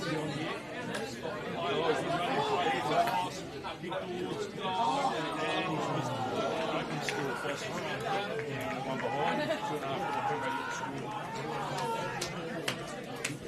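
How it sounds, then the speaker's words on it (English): A steady murmur of crowd chatter fills a grounds at an Adelaide Footy League C3 grand final, PHOS Camden versus Pembroke, with a commentator's voice speaking over the babble throughout. "Good crowd in already."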